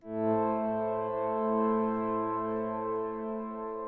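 Ethereal synth pad with a sine-wave second oscillator tuned an octave higher, a steady sustained harmonic drone held alone for several seconds.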